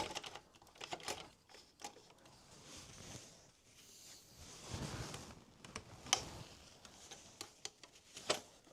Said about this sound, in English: Sounds like it's just clacking against something, doesn't it?